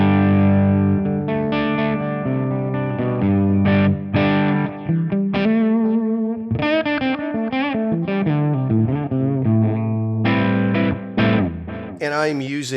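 An electric guitar, a Vigier GV Wood with P90 pickups, plays through a Line 6 Helix with no compressor, giving a driven, effected tone as chords and single-note phrases are played in a loose rhythm alone, close and loud.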